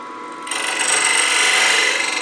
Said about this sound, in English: I think I want to round over these edges just the tiniest little bit.